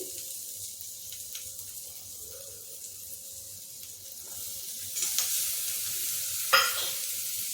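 Softened greens go into a frying pan, starting as a quiet simmering hiss that grows into a louder sizzle, with a sharp clatter as they land and are stirred.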